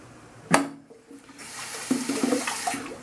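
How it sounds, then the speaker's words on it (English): A toilet tank draining and refilling after a flush: a sharp clunk of the handle, then a rushing, gurgling flow of water that builds and continues steadily, close by. "Draining of the tank."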